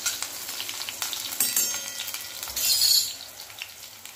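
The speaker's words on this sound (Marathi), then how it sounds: "आता ही मिरची भाजून घेऊया तेलामध्ये, लाल आणि हिरवी." Red and green chilies frying in hot oil, a steady close crackling sizzle with scattered pops that swells briefly near the end, no voices.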